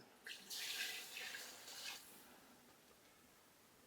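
A short stream of water pours into a biryani pot on a wood-fire stove for about two seconds, splashing softly up close, then quiet.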